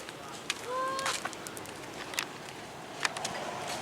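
Short honking quacks from a duck, a few calls near the start over faint outdoor background noise, with scattered chirps and clicks afterward.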